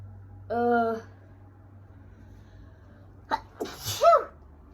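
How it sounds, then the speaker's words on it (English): A short hum of voice, then after a pause a single sharp sneeze with a quick intake before it, close to the microphone over a low steady hum. "I'm gonna sneeze"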